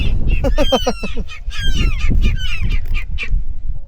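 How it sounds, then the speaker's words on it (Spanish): Ducks at a lake honking and quacking, a burst of rapid loud calls followed by scattered squawks from several birds close by, with faint talk in the background. "No nos dejan acá poder conversar, nada. Los pajaritos."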